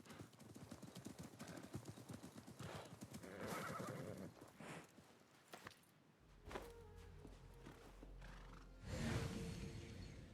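A horse in the Assassin's Creed Mirage video game clip-clops along with rapid hoofbeats, then gives a loud neigh and whinny, close and clear amid game ambience.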